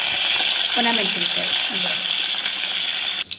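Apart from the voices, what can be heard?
spices sizzling in ghee for tempering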